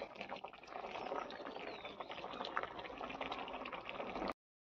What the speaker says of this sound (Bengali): এখানে আলু পোস্ত তরকারি, আলুটা সেদ্ধ হচ্ছে